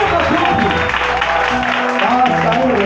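A congregation clapping during a church service, dense applause running under a speaking voice and background crowd noise the whole time.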